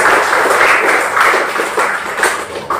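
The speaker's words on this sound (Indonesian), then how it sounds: "Tepuk tangan buat teman-teman kita." In a session for bank security guards, an audience claps for colleagues, giving a loud, close burst of hands that runs the whole way through and tails off slightly toward the end.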